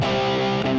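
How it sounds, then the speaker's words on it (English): An electric guitar power chord played through an Orange amp and a 4x12 cabinet with a touch of reverb, one loud distorted chord ringing steadily for under a second. "An orange amp with a 4x12 cabinet, really dry, just this with some reverb"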